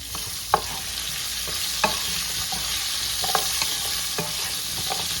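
Seasoned beef pieces, salted and sprinkled with crushed ground pepper, frying in a pan give a steady close sizzle with occasional sharp pops and spatters.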